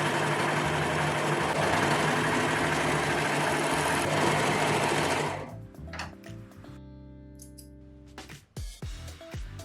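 An overlocker serges viscose and cotton jersey fabric, running as a steady, close, loud mechanical whir for about five seconds before it stops, followed by a few quiet handling clicks and knocks.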